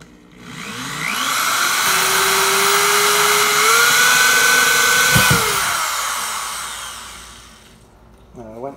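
A drill bores through plastic and into PVC pipe, its motor whining steadily for about six seconds with a slowly shifting pitch, loud and close, then winding down.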